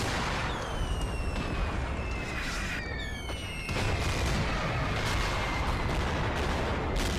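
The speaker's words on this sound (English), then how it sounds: "You can hear the first rounds popping off." Artillery rounds firing in the video game Graviteam Fateful Strike, a tank battle setting: a steady roar of battlefield noise with several sharp whistling streaks and distant booming shots, without talk.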